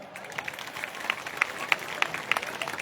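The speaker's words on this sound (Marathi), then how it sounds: "त्यामुळे जोरदार टाळ्या" A Buddhist conference audience claps, with scattered, moderately loud hand claps building into uneven applause.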